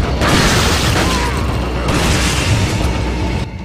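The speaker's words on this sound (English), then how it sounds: "What also works well? Shotgun." Shotgun blasts in the video game Resident Evil 4 boom loudly and close, heavy bursts packed densely into a thick, continuous wash of game noise and mechanical clatter.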